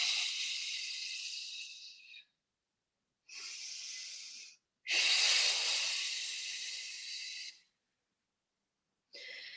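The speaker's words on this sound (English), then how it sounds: "Listen to the breathing." Slow, deep Pilates breathing, heard as long airy breaths alone, each lasting a couple of seconds with short silent pauses between them, close to the microphone.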